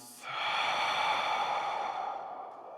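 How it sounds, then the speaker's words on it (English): A single deep breath drawn in through the nose and released through the mouth, a long, close, airy exhale that slowly fades, heard alone. "Breathe in through the nose together and out through the mouth."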